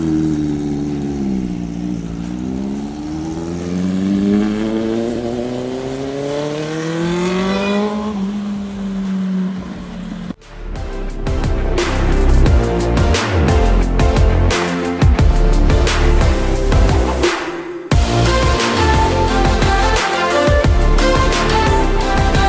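A Kawasaki Ninja ZX10R sports motorcycle engine revving up and down with smooth, rising and falling tones, close and loud, then breaking into a harsher, rapid, aggressive roar of repeated throttle blips.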